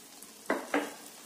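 Chana dal halwa being stirred in a pan with coarsely crushed cashews and almonds: two short, close scraping swishes of a spoon through the thick mixture against quiet background.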